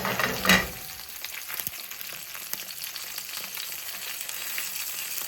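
Salmon fillets sear skin side down in a hot pan with a steady, close sizzle and crackle after a brief clatter at the start. No one speaks.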